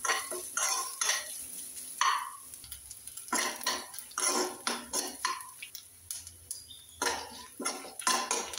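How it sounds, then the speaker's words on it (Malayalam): Grated coconut roasts in a pan for a yam erissery while a spoon stirs it, giving repeated close scraping and clinking strokes against the metal in an uneven rhythm, with no talk. "എരിശ്ശേരിക്ക് നമ്മൾ തേങ്ങ വറുത്തിടും"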